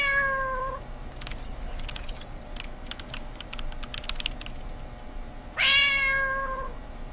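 A house cat meows twice, one clear cry at the start and another near the end, over a quiet backdrop of rapid computer keyboard typing.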